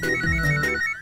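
A mobile phone ringtone plays a short electronic melody, loud and close, with no speech over it.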